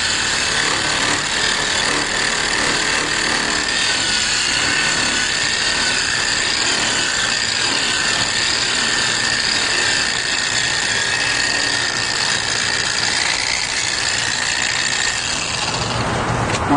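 A polisher runs steadily at low speed, buffing compound into a headlight lens being restored, with a constant high whine and no talk until it cuts off near the end.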